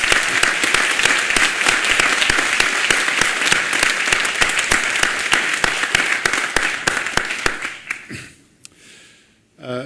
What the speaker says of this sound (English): stand up and give them another round of applause.